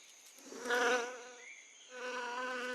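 Polybia wasps buzz near carton ant nests at a forest edge in French Guiana, a close, fluctuating insect drone that swells and fades as they fly about.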